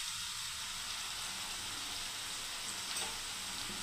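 Steady, close sizzle of tomato paste and curry leaves frying in a pan, a continuous hiss with faint crackles throughout.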